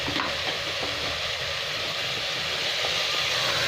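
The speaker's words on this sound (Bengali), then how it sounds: "এবার এটাকে 2-3 মিনিট একটু ভালো করে ভেজে নেবো" Two chopped tomatoes fry in a hot pan for a potato curry, giving a steady, close sizzle that holds evenly throughout with no talking.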